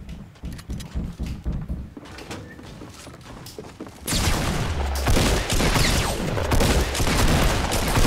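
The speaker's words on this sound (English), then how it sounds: "I just shot this dude twice" Gunfire from the Fortnite video game: a quieter stretch of clicks and mechanical handling, then from about four seconds a loud, dense fusillade of rapid shots that continues to the end, with no talking.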